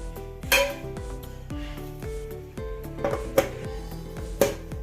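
Metal cookware clanking and scraping as a steaming pan for vattayappam, a Kerala rice cake, goes onto the stove, with several sharp clinks and ringing knocks over a steady low hum.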